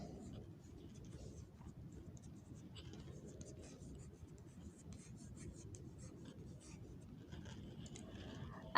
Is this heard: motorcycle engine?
no